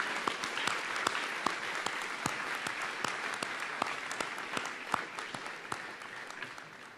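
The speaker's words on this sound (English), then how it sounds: "I'd ask for one more round of applause for our choir, concert bands, and our dragon singers" Audience at a school Memorial Day ceremony applauds the choir, concert bands and singers, sustained steady clapping with sharp individual claps standing out, heard from a distance.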